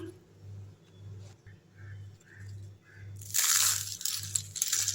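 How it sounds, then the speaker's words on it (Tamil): Crunchy homemade murukku, a fried rice-flour snack, being bitten and crumbling, a burst of loud crisp crunching close up after a few seconds of low background hum. "முறுக்கு பாருங்கள் எப்படி நொறுங்குதுன்னு முறுமுறுப்பாக இருக்கும் பாருங்கள்"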